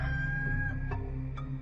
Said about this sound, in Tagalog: siya namang pagtilaok ng manok